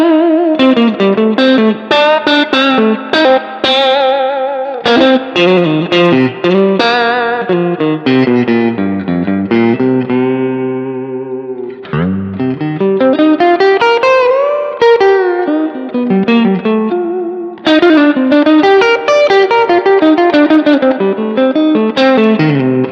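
A steel-string guitar by Vertex plays a clean, bluesy run of riffs and chords through a small Milkman Sounds Amp 50W, loud and continuous with plucked notes, bends and sustained tones. No one speaks.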